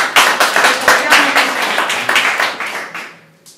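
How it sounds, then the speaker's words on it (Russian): An audience at a church sermon claps to thank a translator: a brief burst of close, crisp handclaps in an uneven rhythm that tapers off after about three seconds. "вот переводчика можно прямо аплодисментами поблагодарить."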